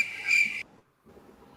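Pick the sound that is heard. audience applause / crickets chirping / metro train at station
crickets chirping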